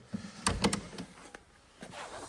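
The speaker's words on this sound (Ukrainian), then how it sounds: "Огонь, гляньте, як закриваються двері." Doors of an old original-condition car shut with several solid thumps and clicks, close by and sharp, separated by brief pauses with faint handling noise between them.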